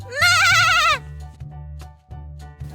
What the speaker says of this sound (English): A nanny goat to keep Goodwin company.